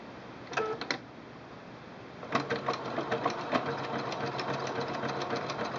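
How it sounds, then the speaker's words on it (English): A Singer Quantum L-500 sewing machine stitches zigzag, first in two short bursts and then in a steady, rhythmic run of chattering needle strokes, close and fairly loud. "Now I'm going to show you the zigzag stitch in a variety of widths."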